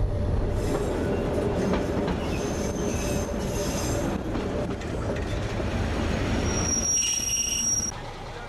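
Vintage 1946–1948 railcar derived from the OC1 type, with an 8-cylinder 180 hp Willème engine, running on the Blanc-Argent line: loud steady rumble with wheel squeal and clatter close by, easing off near the end.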